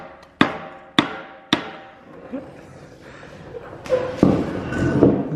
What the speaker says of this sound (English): Just gonna get a bigger hammer.